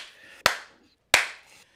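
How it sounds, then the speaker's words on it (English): Two sharp hand claps ring out close by, spaced well apart, each with a short fading tail, with quiet gaps between them. "It just feels good to clap my hands like that again."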